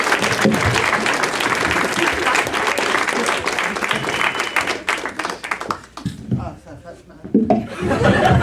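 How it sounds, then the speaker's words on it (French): A live podcast audience claps steadily for a performing duo, dense applause with some chuckles, thinning out near the end as voices talk over it. "Alors, on va continuer à les applaudir, là."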